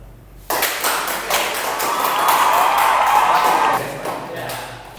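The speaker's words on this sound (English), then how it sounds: "let's give a big applause for ourselves." A small group claps together at the close of a podcast recording, a burst of scattered hand claps that starts abruptly, holds steady for a few seconds, then thins out.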